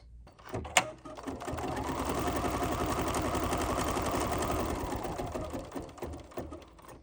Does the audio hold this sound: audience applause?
no